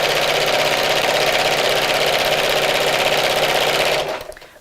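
A sewing machine runs steadily as it stitches fabric for a Christmas bag, a loud close whirring hum held for about four seconds before the motor winds down and stops.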